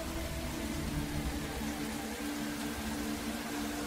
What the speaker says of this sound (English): bringing torrential rain.